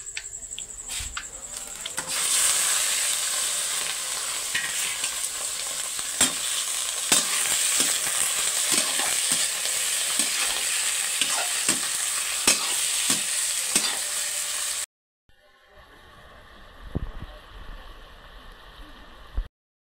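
Chicken pieces fry with browned onions in a hot pan, a steady loud sizzle broken by repeated scraping stirs, then a short pause and a quieter stretch of sizzling and stirring at the end, with no talk.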